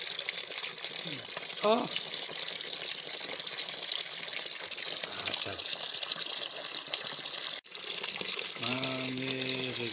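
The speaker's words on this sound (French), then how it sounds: "Ça, c'est l'eau du robinet. Du robinet qui coule" Tap water flowing from a faucet in Brazzaville, Congo, a steady rushing stream heard close, with someone speaking briefly over it and a short engine-like hum near the end.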